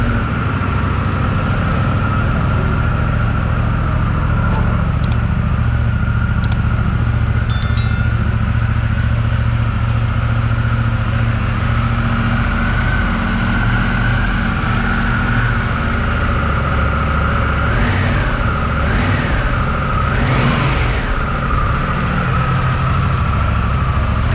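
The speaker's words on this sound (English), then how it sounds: "Let's start on the motorcycle." A Harley-Davidson Pan America 1250 S motorcycle engine idles loudly and steadily, a deep, bassy rumbling exhaust note throughout, with a couple of brief revs and faint chimes near the start.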